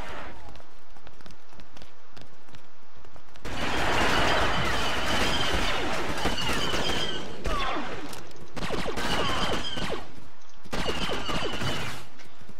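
Rapid blaster fire in the Star Wars Battlefront game rattles out in loud bursts, with sustained volleys separated by short quieter gaps and a final burst near the end.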